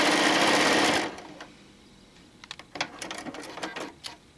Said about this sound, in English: So you'll go ahead and you'll sew your seam.